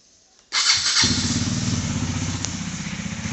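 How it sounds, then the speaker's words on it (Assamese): A KTM Duke 250 motorcycle engine cranks and fires up after a moment of quiet, then settles into a loud, close, lumpy single-cylinder idle. "আজি বাইকখনে উলিয়াই দিও কাৰণ স্কুটিখন নাই তো বাইকখন ষ্টাৰ্ট দি দিও"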